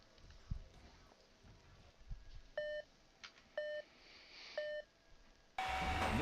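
Three short electronic beeps in an even row mark the start of a robot combat match in the game Robot Arena 2, followed by a sharper, louder tone, over quiet arena noise.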